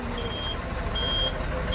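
A vehicle backing up to block a rural road sounds a steady reversing alarm, with three evenly spaced high beeps over low engine rumble and background noise.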